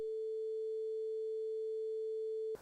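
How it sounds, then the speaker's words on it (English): A pure sine-wave tone at the note C holds perfectly steady and loud for about two and a half seconds, then cuts off abruptly. "then you would hear a sine wave which looks and sounds like this"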